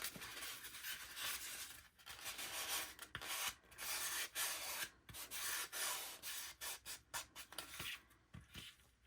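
Fabric rubs and presses down onto a Dollar Tree pumpkin during a decoupage craft, a soft, continuous scratchy rustling close by with uneven strokes and no talking.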